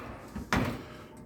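Oven door being shut in a home kitchen, a single close thud with a short rattle after it, heard alone against a faint background hum.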